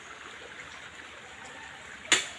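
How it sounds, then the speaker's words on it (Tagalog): A clean mountain river flows with a steady, close, broadband rush of moving water, broken near the end by one short, sharp splash-like burst. "Malinis ang ilog dito."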